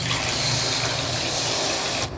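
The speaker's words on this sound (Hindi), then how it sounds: "सब्ज़ी की क्वांटिटी के हिसाब से यहाँ पर 4 गिलास पानी डाल देती हूँ" Water poured steadily into a pan of jackfruit curry, a continuous rushing splash lasting about two seconds and cutting off near the end, with no talking.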